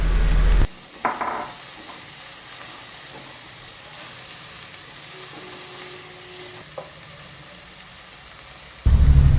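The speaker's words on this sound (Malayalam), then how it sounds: "ഇതിലേക്ക് നമുക്ക് കുറച്ച് ഉപ്പും കൂടി ഇട്ട് കൊടുത്തിട്ട് അതിനെ ശരിക്കും വറുക്കണം" Dried prawns roast with salt in a dry pan for a prawn chutney powder, making a soft continuous hiss with a few light scrapes and clinks, fairly quiet between louder bursts at the start and end.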